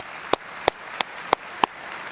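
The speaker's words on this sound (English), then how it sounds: "Let's give Sterling another applause." Applause from the audience at a college trustees' leadership congress opening session, heard as five crisp, evenly spaced claps about a third of a second apart over a low room hum, with no talking.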